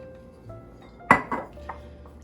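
A utensil clinks sharply against a bowl as soy sauce and Zhenjiang vinegar are mixed into a hotpot dipping sauce, with two bright strikes and a fainter third tap over a quiet background.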